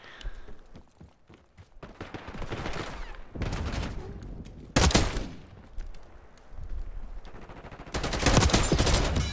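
Automatic weapons fire in Call of Duty Black Ops 6 comes as rapid, loud bursts of game gunfire, with several separate volleys and short gaps between them.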